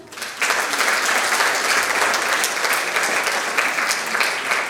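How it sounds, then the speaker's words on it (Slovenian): An audience at a municipal ceremony in Slovenia applauds top students of Loče primary school, a sustained, close burst of clapping that starts abruptly and continues evenly. "Še en aplavz za odličnjake osnovne šole Loče."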